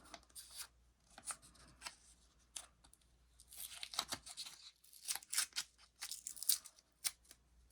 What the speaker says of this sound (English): I'm going to put a little bit of tape here